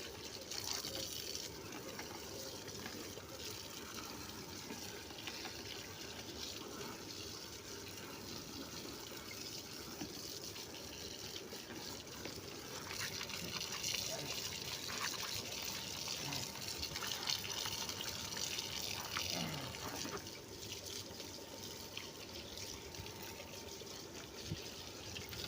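Water sprays with steady force onto a window air conditioner filter during washing. The hiss is continuous and fairly faint, with small shifts as the spray moves across the filter. There is no talk.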